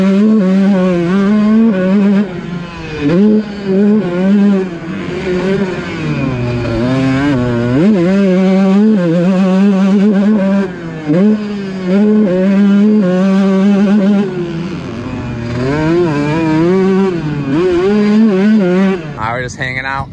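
Kawasaki KX125 two-stroke dirt bike being ridden, its engine buzzing loud and close throughout with rising and falling revs as it accelerates and backs off.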